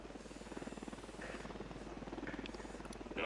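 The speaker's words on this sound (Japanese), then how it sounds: "ユニダットのヘリが巡回してる。" A helicopter patrols in the tactical shooter game Ghost Recon Wildlands, its rotor thrum beating steadily at moderate distance with a low continuous drone, faint game sounds flickering on top.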